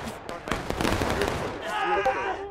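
Musket gunfire crackles in the Civil War game War of Rights, with a ragged string of sharp shots popping in quick succession, close and loud, while voices shout over the volley.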